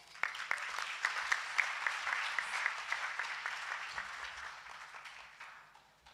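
An audience at a World AIDS Day celebration applauds after a speech. The dense clapping holds steady for several seconds and then fades away toward the end.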